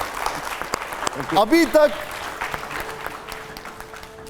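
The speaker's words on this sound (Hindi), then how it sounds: "जोरदार तालियां हो जाए" A studio audience applauds guest Ashok Pandit on a talk show, moderate and fairly close, with someone talking over the clapping throughout.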